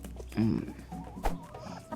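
A chicken in the video game Scary Teacher Stone Age gives a short burst of clucks, fairly quiet, with a thump and game sounds around it.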